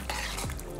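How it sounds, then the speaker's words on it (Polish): A spoon stirring vegan macaroni coated in pumpkin cheese sauce, a short close squelchy scrape through the thick pasta in a pan, alone and brief. "Dokładnie mieszamy."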